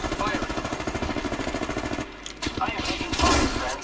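Rapid automatic gunfire from Apex Legends rattles in a fast, even burst for about two seconds, then gives way to scattered shots and impacts, with a voice talking over the shooting.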